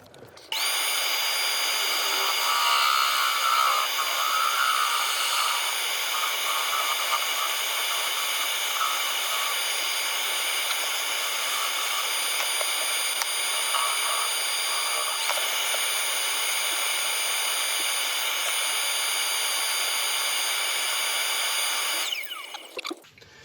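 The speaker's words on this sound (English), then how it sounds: "I'm going to turn the extractor on" A dust extractor runs steadily in a woodturning workshop, a loud continuous high whine starting abruptly and cutting off near the end, with some faint rubbing noises underneath.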